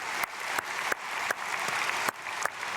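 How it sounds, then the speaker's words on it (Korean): A church congregation claps steadily together at a dawn prayer service in Korea, a warm continuous applause with no voices over it. "귀한 주님의 자녀들 박수로 축복하겠습니다"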